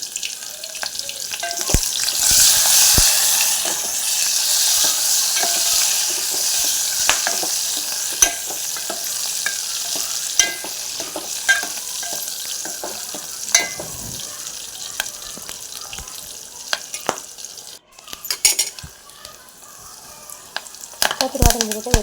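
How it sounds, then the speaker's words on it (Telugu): Chopped garlic and onions sizzle steadily in hot oil in a pan for a dal dish, with intermittent scraping stirs and clinks of a spoon throughout, loud and close. "ఆయిల్ బాగా వేడెక్కాక తెల్లవాయలు ఎర్రగడ్డలు అయితే వేసుకోవాలి సన్నగా కట్ చేసుకొని."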